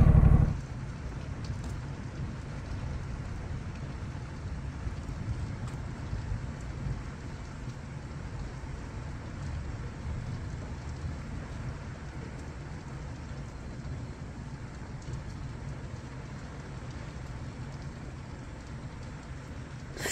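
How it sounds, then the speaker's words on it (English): Heavy rain pours steadily through a night thunderstorm in Katy, Texas, with low thunder rumbling beneath the downpour, loud and continuous from start to finish and no talking. "Massive thunder and lightning storm."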